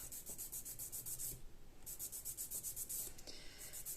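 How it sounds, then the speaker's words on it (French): Nail file rasping across gel-polished nails during a broken-nail repair test, a run of quick close strokes in two bursts separated by a short pause, with no talk over it. "Je vais limer peut-être un peu dessus."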